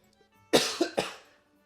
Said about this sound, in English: did you hear me coughing?